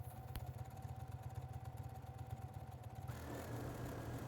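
A sewing machine stitches a doll skirt at sped-up pace, a steady fast mechanical whir with dense rapid needle pulses throughout, close and fairly quiet, shifting tone near the end.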